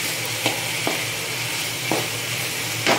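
Coriander seeds and cumin fry in a pan with a continuous close sizzle and crackle, broken by a few sharp stirring scrapes. No one speaks.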